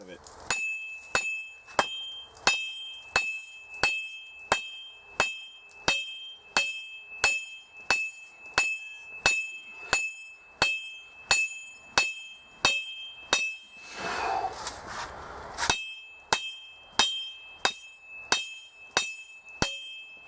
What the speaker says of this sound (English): I'm just going to take the big hammer and hit the shit out of it